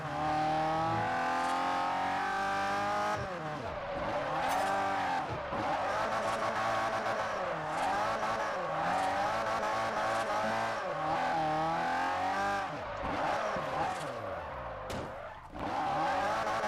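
A car in the racing game Forza Horizon drives and skids, its engine revving up and down through gear changes under long, wavering tire squeals, loud and continuous throughout.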